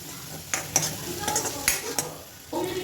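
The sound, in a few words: stirring egg soup mixture in a pan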